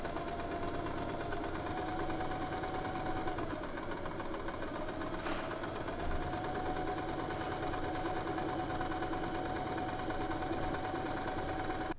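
A sewing machine runs continuously, stitching a dress seam right beside the unfinished edge, with a steady close mechanical whirr and no pauses.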